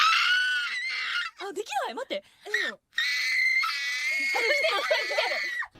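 Glitched, distorted screaming from the Bocchi the Radio anime radio show audio, harsh sustained screeches in two long bursts broken by shorter warbling vocal cries in between, loud and up close.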